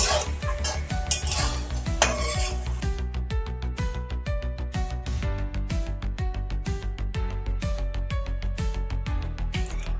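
Paneer cubes frying in oil in a pan and being stirred, with a steady sizzle under repeated scraping and clinking of a spoon against the pan, close and fairly loud.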